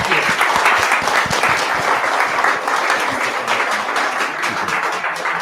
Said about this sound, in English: Applause for everyone.